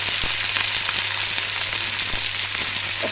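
Cut brinjal pieces fry in a pan for a village-style brinjal and tomato curry, with a loud, steady sizzle throughout and a few soft clicks and taps over it.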